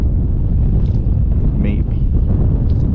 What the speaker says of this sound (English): It's pretty windy and it's cold.